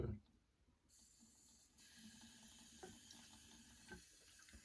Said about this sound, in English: I'll just drip it with my hand.